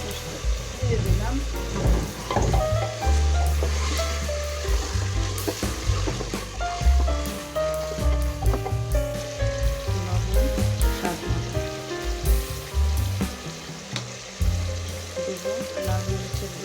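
Spice masala for biryani frying in a pan, with a steady, close sizzle and crackle plus intermittent stirring scrapes, while a person talks over it.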